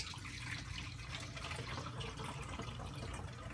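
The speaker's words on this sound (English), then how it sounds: "We're just going to pour into our quart bottles." Homemade root beer poured from a one-gallon batch into quart bottles, a steady close splashing and gurgling stream of liquid running continuously without pause, no voices over it.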